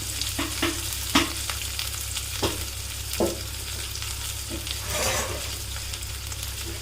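Two medium sliced onions frying in a pan give a constant loud sizzle, with a few scraping stirs of the spoon and a low steady hum beneath, no talking.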